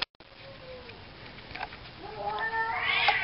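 Cats meow in a workshop where a Solex 5000 moped is being restored, with a faint short mew early on and then a louder, rising drawn-out meow near the end.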